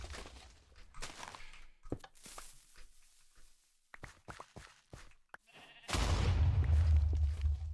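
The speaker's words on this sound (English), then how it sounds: "Oh, sheep, I don't want you to die." A sheep bleats in a video game among scattered thuds, footsteps and other game effects, ending in a louder, sustained rush of noise.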